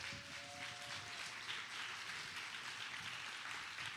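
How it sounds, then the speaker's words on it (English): Workshop audience applauding for a homebuyers workshop host, a steady broad wash of clapping filling the whole stretch at moderate level with a brief whistle early on. "Come on, y'all clap your hands again."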